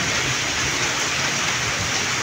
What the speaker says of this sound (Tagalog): Ulan na po mga idol.